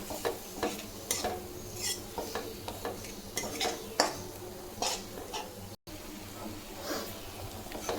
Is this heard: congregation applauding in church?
no